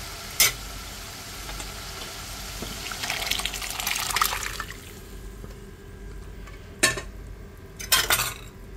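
Chickpeas (chole) are tipped into a cooking pot, producing a hissing sizzle and bubbling with a stirring scrape, followed later by a few sharp metallic clinks of a utensil against the pot.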